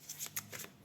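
Tarot cards are shuffled for a reading in a few soft, quick riffles, close and quiet with no talking.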